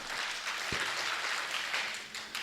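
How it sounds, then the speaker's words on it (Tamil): A debate-hall audience applauds, a soft, somewhat distant wash of clapping that holds steady for a couple of seconds. "கைத்தட்டி பாராட்டணும்"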